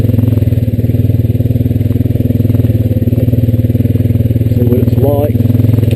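A Honda Rancher 420AT ATV putters along slowly on a trail, its engine giving a loud, close, steady low rhythmic chug with some clatter, and a brief voice or squeak near the end.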